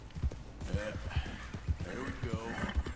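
Leopard Appaloosa horse hooves clopping in Red Dead Redemption 2, a steady rhythmic clip-clop of several evenly spaced hoofbeats, moderately close, with someone talking over them throughout.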